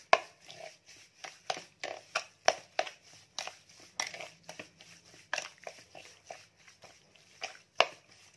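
Pork belly is worked together with seasoning by hand, giving a close run of rhythmic, wet squelching and slapping pulses, with no voices.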